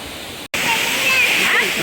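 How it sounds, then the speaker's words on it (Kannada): A mountain stream in Coorg rushing steadily over rocks, a close, continuous hiss of flowing water with a brief dropout near the start and voices faintly under it. "ಎಷ್ಟು ಚೆನ್ನಾಗಿ ನೀರು ಹರಿತಿದೆ."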